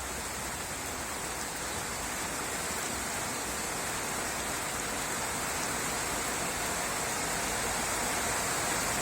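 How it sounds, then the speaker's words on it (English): Rain patters steadily across the fabric roof of a Saab 9-3 convertible, a dense continuous hiss that holds at an even level throughout with no voices. "watching rain fall on a convertible roof."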